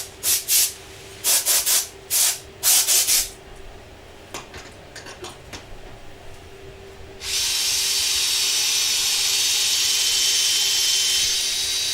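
On a lathe, a thin-walled wooden bowl gets a few short squirts from an air gun. Then steady, loud sanding hiss begins as it is worked from 120 to 180 grit. No one speaks.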